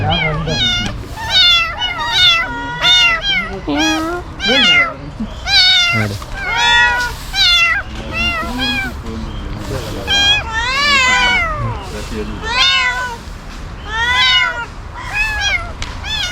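Several cats at an animal rescue centre meow repeatedly, loud and close, their rising and falling cries overlapping in a steady stream with a voice talking in the background.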